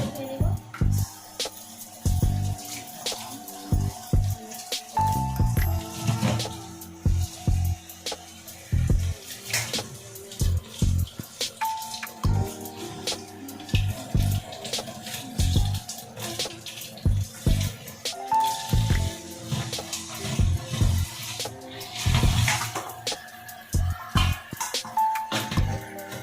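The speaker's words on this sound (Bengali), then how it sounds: "এগুলোকে আমি ভালোভাবে ধুয়ে নিব" Ridge gourd, tomato, green chillies and coriander washed by hand in water, with steady splashing, sloshing and light clatter of a bowl, close up, and a voice speaking softly now and then.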